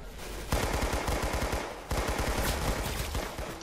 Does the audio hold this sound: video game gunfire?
yes